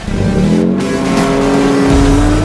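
A Toyota Tacoma truck engine fitted with a Magnuson supercharger revs up, a close, loud, rising engine note with a climbing whine held through the short burst, no talking.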